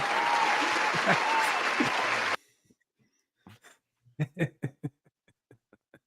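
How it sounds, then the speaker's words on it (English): A short burst of canned applause plays during a Star Trek episode review discussion. It lasts just over two seconds and cuts off abruptly, followed by quiet, sparse voices. "Here, I'll give myself an applause for that one."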